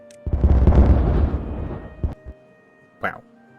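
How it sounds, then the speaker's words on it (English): A Timberborn video game explosion, one loud, close, booming blast that rolls and fades over about two seconds, followed by a couple of small thuds and a short voice. "Let's explode this here."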